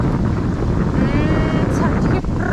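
Steady wind gusting outdoors by the sea on a Greek shore, a broad continuous rush with buffeting on the microphone, lasting throughout.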